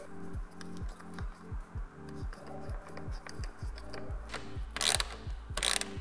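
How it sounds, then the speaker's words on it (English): Ratchet wrench re-tightening the screws of a hose clamp on a Porsche 996 911 engine, a close, steady run of quick clicking strokes in short bursts, ending with two louder rustling scrapes. "So what we will do is we will re-tighten the screws."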